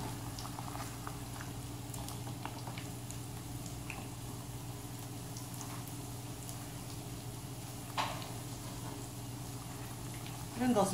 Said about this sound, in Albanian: Rëndosim kapakun dhe lejmë mishin të vazhdoj të zjeri